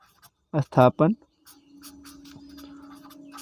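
Chalk or a marker scratches steadily across a classroom board while a math equation is written out, following a short burst of a man's speech and continuing as a faint, continuous scraping.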